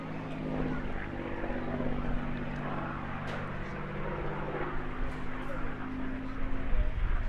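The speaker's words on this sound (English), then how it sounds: "this particular Spitfire, one of the most original airworthy Spitfires in the world." A World War II Spitfire built at Castle Bromwich in 1943 flies at a seaside airshow, its propeller engine a steady, fairly distant drone throughout, under a commentator's voice.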